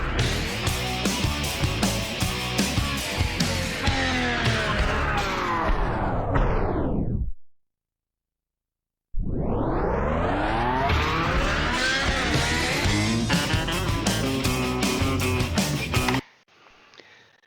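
Vinyl break effect on a Native Instruments S4 Mk3 DJ controller, set to a long duration: loud music abruptly winds down in pitch to silence like a stopping turntable, then winds back up and resumes before cutting off.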